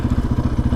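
The tires of a quad bike hum loudly while riding at around 70 km/h. The low droning has a steady, rapid throbbing pulse, close and continuous, with no voices.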